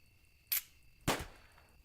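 Two sharp, quiet gunshot cracks in the video game Angels With Scaly Wings, about half a second apart, each a brief burst that fades quickly, with no talking.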